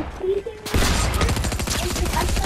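Rapid, loud video game gunfire bursts in abruptly and continues as a dense rattling fusillade of shots, with a voice speaking briefly just before it starts.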